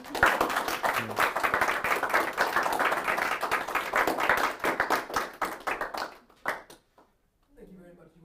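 An audience gives a round of applause at the end of a talk on a pilot's passion, brisk dense clapping for about six seconds that trails off into a few stray claps, then near silence and a speaking voice.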